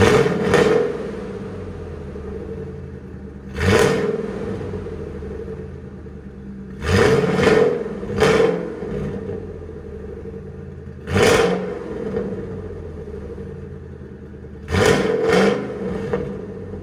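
A 2000 Ford Lightning pickup with a 5.4L supercharged V8 and Borla ATAK exhaust idles with a deep rumble, punctuated by about six sharp throttle blips that roar up and quickly fall back, sometimes in quick pairs.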